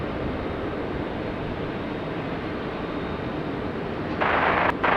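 A Jetstar airliner takes off from runway 16 right at Sydney Airport, its engines a steady, loud broadband roar that holds for several seconds and swells brighter and louder near the end.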